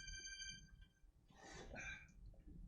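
A phone lying on the floor rings in short electronic tones, soft and a little distant, with a brief pause between bursts.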